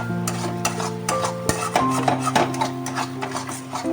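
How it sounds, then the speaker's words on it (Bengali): A spoon stirs paneer butter masala gravy as it sautés in a pan, a steady close scraping and rubbing with a soft sizzle beneath, continuous and fairly loud. "কষানো হচ্ছে দেখুন"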